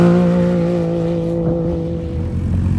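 An off-road desert race truck sits at the start of Vegas to Reno qualifying, its engine holding a loud, steady rumbling idle close by before a slight shift as it prepares to launch.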